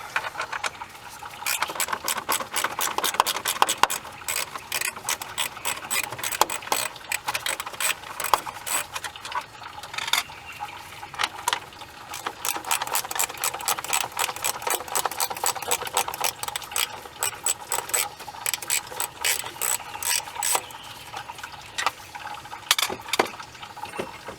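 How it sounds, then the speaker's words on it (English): Rapid clicking of a ratchet loosening 8mm bolts from the fan shroud on a Ford 6.0 engine, coming in quick repeated bursts with short pauses, close and moderately loud. "we got a couple of 8mm bolts there we got to take out"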